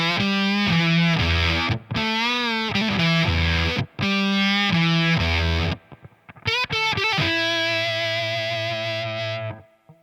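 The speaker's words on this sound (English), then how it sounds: "Let's have some fun with the octave and boost section." Electric guitar played through the octave section of a fuzz pedal, a run of loud, saturated, buzzy riffs and sustained notes with an upper-octave edge and short breaks between phrases, close with no talking.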